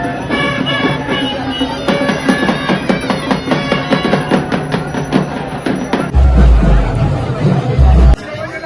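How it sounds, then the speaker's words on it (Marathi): Dense crowd chatter at Jejuri temple, a loud, steady babble of many voices packed close together with rhythmic percussive accents, and a burst of low rumbling wind or handling noise near the end. "तिथे गर्दी बघा किती आहे"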